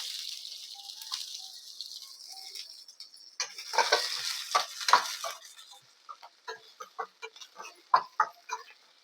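Onions dropped into hot oil in a pan with bay leaf and spices: a quieter hiss at first, then a burst of sizzling and a quick series of spatula clatters and scrapes as they are stirred.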